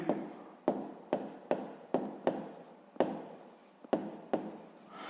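A pen writes by hand on paper while working a sixth-grade math exercise, with about nine quiet, close scratchy strokes in an irregular rhythm, each starting with a light tap.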